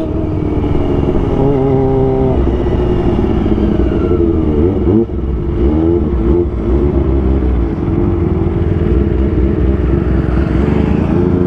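A Kawasaki ZX25R sport motorcycle revs hard near a roadside gathering of riders, its high-pitched inline engine climbing and dropping through repeated throttle blips, loud and close throughout.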